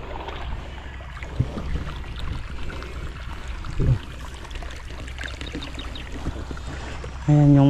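Water is poured steadily onto calamansi plants, a continuous close splashing and trickling into soil that runs the whole time with a few louder sloshes, and no one speaks.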